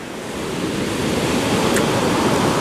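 Sea waves breaking during a storm on the Spanish coast, a loud continuous roar of surf with wind buffeting the microphone, no voices.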